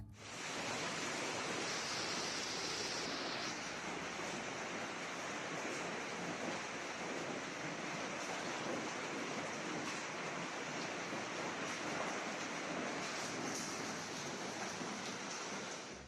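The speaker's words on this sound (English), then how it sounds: "Floodwaters rage across the landscape, an unstoppable torrent reaching 6 meters high." A raging flash-flood torrent sweeping across the landscape, heard as a loud, steady, unbroken roar of rushing water that fills all sixteen seconds with no voices.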